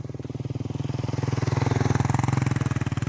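A motorcycle engine chugs steadily nearby in a fast, even pulsing beat, growing slightly louder midway, with no voices.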